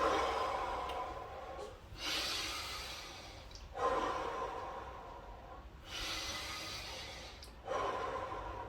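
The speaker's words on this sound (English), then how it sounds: "we always finish with a nice little bit of breathing" Deep, slow breaths close by at the end of a power stretch session: four long inhale-exhale cycles, each a loud airy rush that fades gradually before the next breath.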